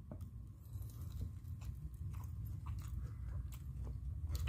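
Close crunchy bites and chewing of a crispy Taco Bell Mexican pizza, a steady stream of crackling mastication over a low background hum, with no talking.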